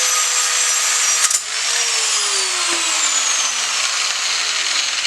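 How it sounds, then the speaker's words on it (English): Angle grinder cutting metal during welding repair work on an S14, a continuous loud high-pitched whine with a falling pitch sweep and a brief clatter near the start, steady throughout with no speech. "Let Alex use an angle grinder, they said"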